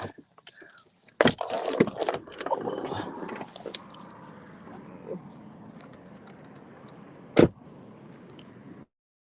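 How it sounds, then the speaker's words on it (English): Keys jangle and clatter as they are pulled out outdoors in an orchard, with a few sharp metallic bursts early on, quieter rustling after, and one more distinct clink near the end. "Let me take my keys out."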